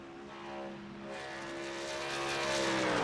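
A racing truck's engine in a truck-series race video game at Michigan, its throttle blipped and held with steady harmonic drone rising gradually in loudness and pitch, fairly close with no talk.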